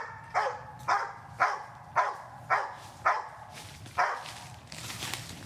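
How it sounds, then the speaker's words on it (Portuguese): A cadaver search dog barks repeatedly in a steady rhythm, about seven sharp barks roughly half a second apart, fairly close, with faint background noise. "quando encontrar ele vai começar a latir"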